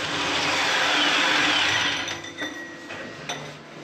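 A power drill boring a hole during a bathtub installation, its insert clogging, a loud steady whirring grind that eases off into a few short bursts near the end, with no talking.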